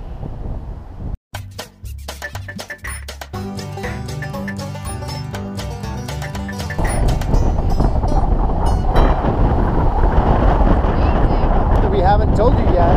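Strong wind on a West Virginia mountain roars and buffets the microphone, a loud rumbling gust that builds and stays heavy, with a voice calling out over it.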